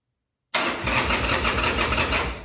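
A 2000 Harley-Davidson Sportster 1200C with its choke partly out, left sitting for six years, cranks and fires into a loud, steady, rough-running engine that stays close after a moment of silence.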